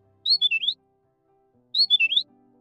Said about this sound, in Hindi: चेचाना भी एक तरीके की साउंड है जो पक्षी प्रोड्यूस करते हैं